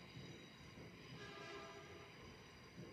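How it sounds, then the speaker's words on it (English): A train passes outside an open window on a hot day, a steady rumbling wash with faint tonal hum, fairly distant and continuous, no voices. "that train sounds horrible."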